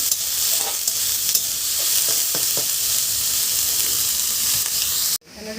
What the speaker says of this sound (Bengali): কাটা রাখা যে গাজর আর ক্যাপসিকামগুলো একটু ভেজে নিচ্ছি।